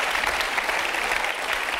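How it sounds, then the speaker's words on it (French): A television studio audience applauds in a dense, even wash of many hands clapping together, continuous and moderately loud for the whole short stretch. "Ah bah il applaudit, Luc."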